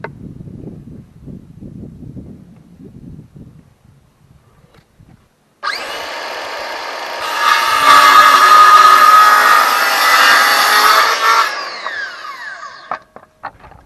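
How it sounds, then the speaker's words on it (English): A circular saw guided along a speed square cuts wooden door trim for a cabin. A few quiet scraping sounds come first, then the saw spins up loud, bites through the wood for several seconds, winds down and stops. "I'm just going to do it all with the circular saw and the speed square."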